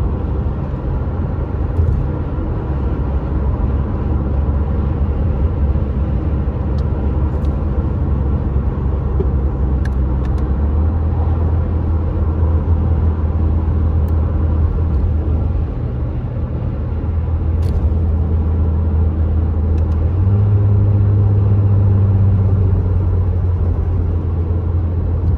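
A car travels down a winding mountain road on Highway 38 from Big Bear toward Redlands, its steady engine and tire rumble droning continuously, close and loud, with shifting engine tones and no speech.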